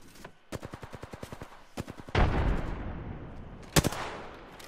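Video game combat: a rapid burst of automatic gunfire in sharp, evenly spaced shots, then a loud grenade blast with a rumbling tail, and a final pair of close shots.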